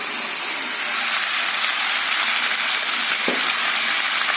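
Chicken kosa sizzling hard in a pan after chili powder goes in, a loud, steady, close hiss of frying with a brief stir partway through.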